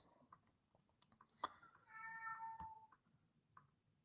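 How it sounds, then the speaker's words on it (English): A house cat meows once in a drawn-out, wavering call, fairly faint and close, with a few soft clicks and knocks before and after and no talk. "My cat is meowing."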